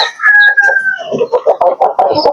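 A rooster gives a loud, close crow, followed by a quick series of chickens clucking in rapid bursts in a backyard breeding flock.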